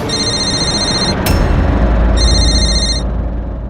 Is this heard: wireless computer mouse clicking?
no